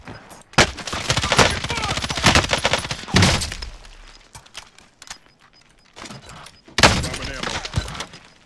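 Bursts of gunfire from a Call of Duty Warzone match, loud rapid volleys in two clusters separated by a quieter stretch, with players talking over the action.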